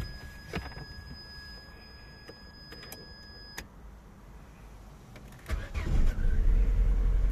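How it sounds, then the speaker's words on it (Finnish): A 1999 Opel Astra whose keys were all lost and have just been reprogrammed: a few clicks and an electronic whine as the ignition is switched on, then the engine cranks and catches near the end, rising into a loud running rumble. "Kokeillaan lähteekö auto käyntiin."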